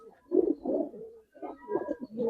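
Giribaz pigeon cooing close by in a loft, two bursts of soft low throaty coos separated by a brief pause, with no talk over it.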